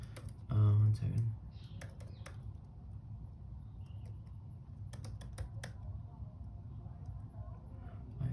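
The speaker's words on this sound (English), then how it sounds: "I need to type in the URL." Keys tapped on a computer keyboard while entering a website address, light scattered clicks in short runs at moderate distance, after a brief burst of speech at the start.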